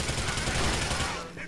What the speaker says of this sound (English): Here's the immediate use of the SMG I just got.